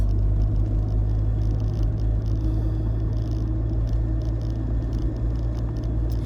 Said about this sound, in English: I think that sound on my car, I think that's like the catalytic converter.